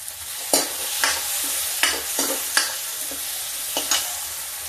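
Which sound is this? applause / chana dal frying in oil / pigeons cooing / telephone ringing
chana dal frying in oil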